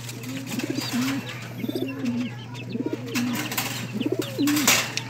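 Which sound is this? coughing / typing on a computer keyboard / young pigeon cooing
young pigeon cooing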